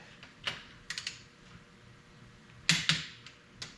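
A torque wrench clicks in sharp, separate snaps as it tightens bolts on an engine block torque plate used for cylinder honing. The snaps come in small clusters with pauses between them, close by and quiet, and nobody speaks.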